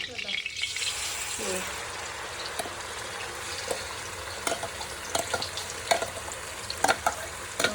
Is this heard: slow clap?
no